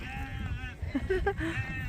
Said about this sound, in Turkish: Kuzular, koyunlar